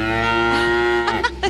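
A cow moos inside a prison in a television drama scene, one loud, close, drawn-out call that holds steady before breaking into a few short rough pulses at the end.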